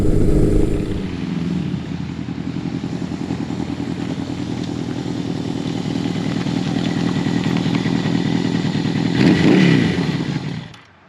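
A vintage motorcycle, a Honda CB900 Custom or Yamaha XJ1100 Maxim, rides at steady speed with a continuous loud engine drone and wind rush, the engine note rising briefly near the end before it cuts off.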